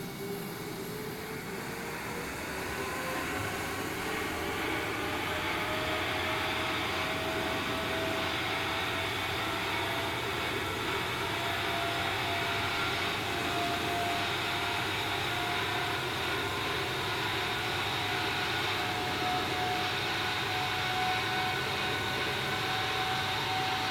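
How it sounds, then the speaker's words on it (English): Boeing 747-8 jet engine spooling up in the X-Plane 11 flight simulator, a steady, fairly quiet whine and roar with a thin tone slowly climbing in pitch over a long stretch. "Sounds like a jet engine."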